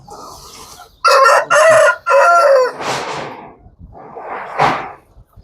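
A Natu Kodi country rooster crows loudly and close in a breeding shed at Vijaya Farms, Mylavaram, followed by hens clucking and squawking nearby.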